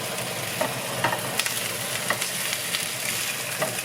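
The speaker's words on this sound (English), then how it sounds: "And I just need to focus on cooking this fish." Trout sizzles steadily in a hot frying pan, a dense crackling hiss with scattered sharper pops and spatters, close and alone with no talking.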